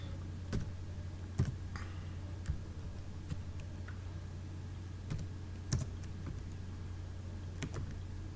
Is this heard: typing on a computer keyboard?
yes